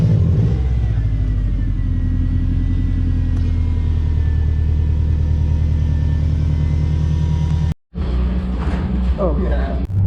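A Subaru WRX with a newly replaced clutch drives along, its engine and road noise forming a loud, steady rumble heard from inside the cabin, with one brief dropout near the end.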